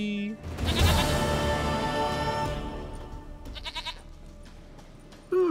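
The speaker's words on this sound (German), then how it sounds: "Mein Zieglein, liebes, süßes Zieglein." A goat from The Witcher 3 lets out a loud, drawn-out bleat near the start, followed by quieter trailing bleats over the game's ambient background before the sound fades.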